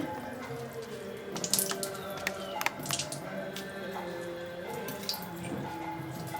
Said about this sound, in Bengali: এটাকে আমি চেপে চেপে জলটা যতটা সম্ভব আমি বার করে নিচ্ছি